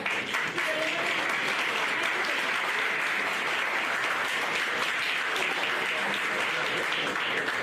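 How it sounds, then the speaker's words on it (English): Audience at a live anatomy lecture event applauding to welcome a guest speaker, a steady, even round of clapping from a hall full of people lasting several seconds. "Please join me in extending a warm round of applause"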